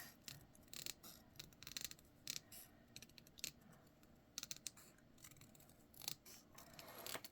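Scissors snip through paper for a dark carnival clown craft, a run of short crisp cuts in quick irregular bursts, close and fairly quiet with no talking.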